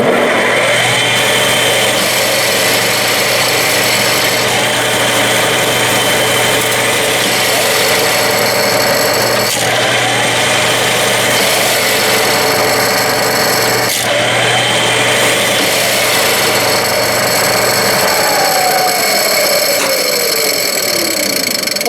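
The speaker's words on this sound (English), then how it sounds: "I'm going to turn the machine on and off several times applying the brake" A Clausing metal lathe runs steadily with a continuous motor hum and high whine, with brief dips where it is switched off and the brake is applied before it restarts, winding down near the end.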